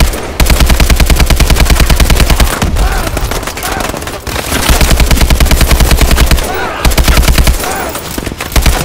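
An AK rifle from the Call of Duty: Advanced Warfare campaign fires loud, rapid automatic bursts, with a few short pauses between long volleys. The shots are close and dominate the sound.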